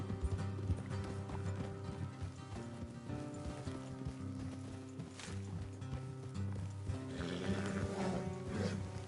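Steady clip-clop of horse hooves at a fast gallop in Red Dead Redemption 2, with game music and ambience underneath, an occasional whinny rising near the end.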